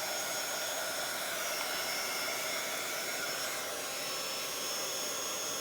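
A hair dryer blows steadily and close up to dry a journal page, giving an unbroken, even rush of air with no talk.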